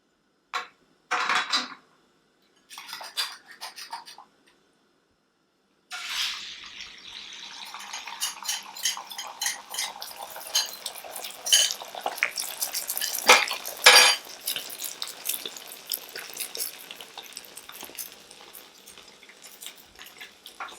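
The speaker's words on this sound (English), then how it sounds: "let me get a little bit of oil in my pan. And we're essentially going to make a little omelet" Egg poured into an oiled pan for a small omelet, with a few sharp clinks early on and then a steady soft sizzle, broken by scraping and tapping of a utensil against the pan.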